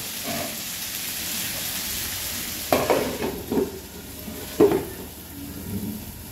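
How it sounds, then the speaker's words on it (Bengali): Ridge gourd frying in a pan with mustard, under a steady sizzle, with three distinct scraping stirs of a spatula near the middle and end; no one speaks. "একটু নাড়াচাড়া করে কষিয়ে ঢেকে দেব।"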